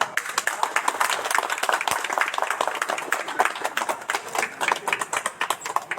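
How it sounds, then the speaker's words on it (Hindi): Crowd applause at the opening of Narayan Hospital in Malipur, attended by a member of parliament: dense, steady clapping from many hands that holds for the full stretch, with voices mixed in underneath. "ताली जोर से"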